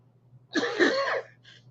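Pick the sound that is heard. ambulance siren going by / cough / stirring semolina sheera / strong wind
cough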